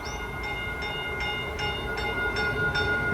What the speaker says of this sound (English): This is the train I'm going to be boarded to go back to San Francisco. Here it comes.